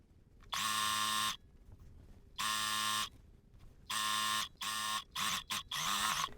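A sewing machine stitches a dress seam in several close, loud bursts of buzzing whir. Each burst stops sharply, with short quiet gaps between them, and the final runs come quick and choppy.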